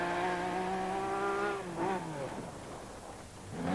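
A 2.4-litre V6 rear-engine Lancia Stratos rally car at a Welsh rally sprint gives a strained, rising engine note, then a dip and a fresh rev as it drives past at moderate distance.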